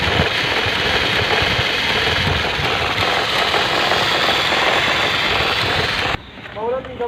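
A Toyota Etios engine idles on CNG with a misfire: a steady, rough, close rumble mixed with wind buffeting for about six seconds, then it cuts off abruptly to a brief quieter stretch.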